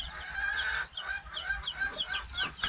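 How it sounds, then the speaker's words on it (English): Bantam chickens and chicks in a chicken yard, busy overlapping high peeping and clucking calls, close and lively throughout. "There's chicks in here running around."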